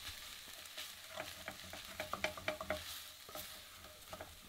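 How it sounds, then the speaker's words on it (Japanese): A utensil stirs and scrapes browned bits off the bottom of a frying pan while cooking Lyon-style andouillette, in a quick run of rhythmic strokes over a soft, steady sizzle; quiet and close, no voices. "毎回きっちり鍋底の旨味を剥がします。"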